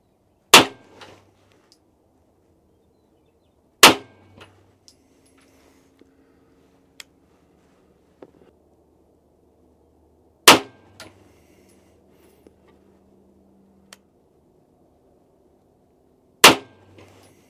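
Four sharp, loud gunshots from 147 gr Buffalo Bore subsonic rounds fired during ballistic testing, spaced irregularly several seconds apart, each a crisp crack with a short decay and quiet gaps between.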